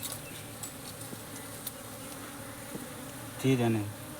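Honeybees buzz steadily around a hive in a tree hollow during honey collection, a faint continuous drone with a brief louder hum near the end.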